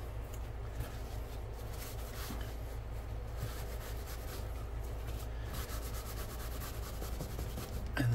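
Continuous quiet rubbing as stain is wiped off a tooled leather belt with acorn and oak leaf designs, a soft steady scrubbing texture with faint scratchy strokes throughout and no talking.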